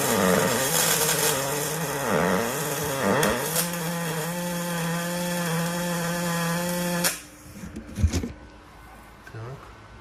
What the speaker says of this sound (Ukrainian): Пробуємо спочатку шов по гладкому металі.